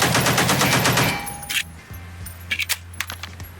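Metallic clicks and clacks of an M4A1 rifle reload in a video game sandbox mode, a dense rattle of mechanical handling at first followed by a few sharp, separate clicks, close and alone.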